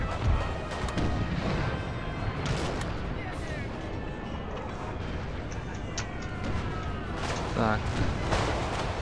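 Cannon and artillery fire in a Napoleonic-era battle from the Napoleon: Total War strategy game, with dull booms and crackling volleys rolling continuously through a dense battlefield din, while someone speaks briefly over it.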